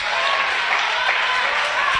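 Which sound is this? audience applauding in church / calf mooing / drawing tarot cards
audience applauding in church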